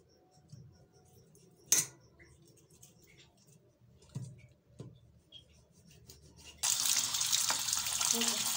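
Fish being washed under a running kitchen tap while preparing Punjabi fried fish, with scattered clinks and rubbing, then a strong steady rush of water toward the end.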